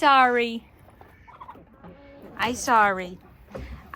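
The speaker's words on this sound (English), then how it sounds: "See, there's chickens locked in here." Chickens shut inside a coop give loud, close, wavering squawks in two main bursts, with softer clucks and a person talking in between.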